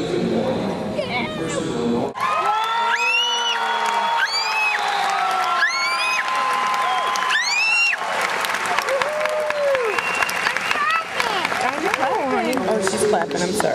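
A graduation ceremony crowd claps and cheers in a dense, continuous roar, with whoops and shouts rising above it and nearby voices chattering throughout.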